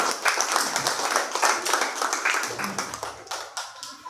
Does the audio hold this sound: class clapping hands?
yes